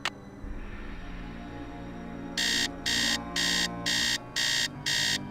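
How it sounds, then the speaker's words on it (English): A digital alarm clock in a Nancy Drew video game goes off at 3 a.m., sounding six evenly spaced, loud electronic beep bursts with a steady rhythm over quiet game ambience. "alarm"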